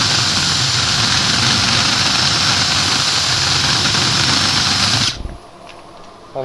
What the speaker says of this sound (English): And then stop the lathe again